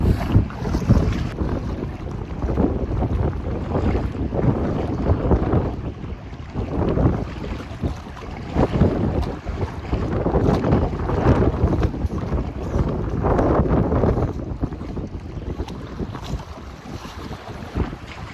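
Strong gusty wind blows outdoors in Lagenbach, Texas, buffeting the microphone with loud, rumbling surges that rise and fall continuously, with no voices.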